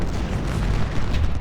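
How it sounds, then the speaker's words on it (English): Civil War cannons fire during a battle at Antietam in the strategy game Ultimate General: Civil War, a continuous low rumble of overlapping booms, dense and loud with no clear gaps. "Cannons are firing."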